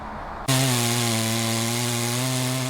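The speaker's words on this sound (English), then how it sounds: "The sounds of chainsaws and work crews busy clearing dozens of large, downed trees caused by Tropical Depression Debbie." A chainsaw starts up after a brief quiet moment and runs loud and steady at high revs, close by, cutting through large trees brought down by Tropical Depression Debbie during storm cleanup.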